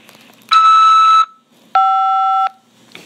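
Two electronic tones on a prison phone call line before the call is accepted. The first is a shrill beep of about 0.7 seconds. The second is a lower, slightly warbling tone of about 0.7 seconds, heard clean and loud with quiet gaps.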